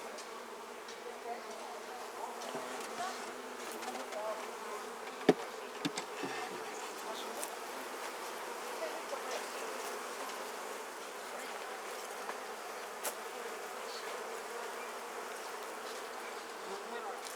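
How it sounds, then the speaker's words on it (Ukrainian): Large wasps fly around beehives at an apiary in late summer, a steady, faint droning buzz that goes on without pause, with a few soft knocks and no talking. "І оси літають."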